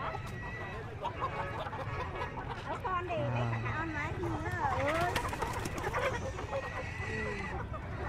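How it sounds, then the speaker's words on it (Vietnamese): Yellow-legged roosters and hens cluck amid a busy northwest Vietnam market, their calls mixed into a steady crowd of voices and people talking nearby. "Gà trống này, gà mái này có hết."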